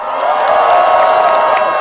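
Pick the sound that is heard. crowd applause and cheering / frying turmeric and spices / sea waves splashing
crowd applause and cheering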